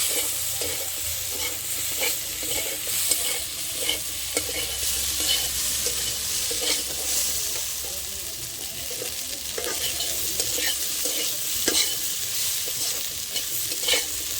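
Potatoes with poppy seeds fry in a pan, a soft continuous sizzle broken by repeated scraping and stirring strokes from a spatula, close up and steady, with no talking.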